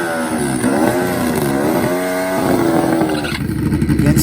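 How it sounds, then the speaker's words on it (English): A Turbo Suzuki Hayabusa and a Nitrous Suzuki GS drag racing motorcycle stage side by side during a final qualifying session, engines revving loudly in rising and falling surges, close and alone. "The Turbo Suzuki HAYABUSA alongside the Nitrous Suzuki GS of Dustin Janzen Farlane."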